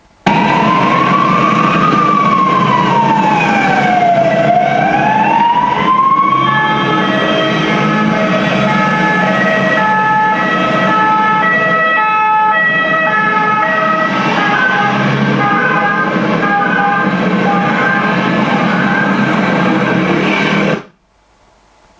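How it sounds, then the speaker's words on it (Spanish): A loud, close siren wails, first in slow rising and falling sweeps, then in a steady alternating two-tone pattern, cutting off abruptly at the end. "Una ambulancia, no es música"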